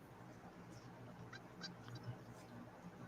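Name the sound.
bird calling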